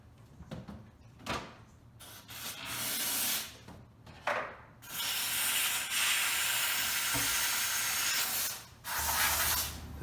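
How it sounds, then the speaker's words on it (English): A steam cleaner hisses and sprays into an ice-packed drain hole of a Frigidaire refrigerator, in long loud bursts broken by brief pauses, clatters and shifts in intensity. "I'm going to try to melt that out with a steam cleaner."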